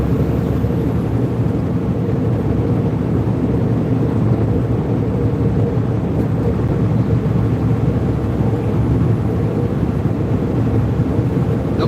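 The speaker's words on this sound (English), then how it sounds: "Driving a truck down the road." A truck driving down the road in a video game, a steady broadband rumble of engine and road noise that holds at a loud, constant level throughout, with no voices.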